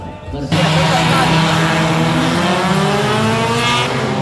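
Honda Mobilio engine at a drag race start line on the Lanud Makassar airbase circuit, a loud steady rising drone that kicks in abruptly after a brief lull and holds for several seconds, with an announcer talking over it.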